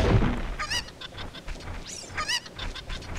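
A cucco chicken in The Legend of Zelda, rapid honking, goose-like clucks repeating in several quick bursts, fairly close and loud over a background game sound bed.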